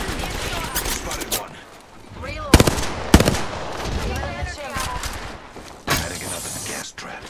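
Bursts of video game gunfire, rapid automatic shots with a few sharp louder cracks, sounding over ongoing team voice chat among players.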